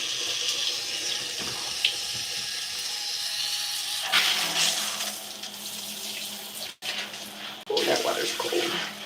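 Cold tap water runs steadily while hair is washed, a loud continuous hissing splash that shifts as the flow is interrupted and resumes, with a brief break near seven seconds and a voice faintly present.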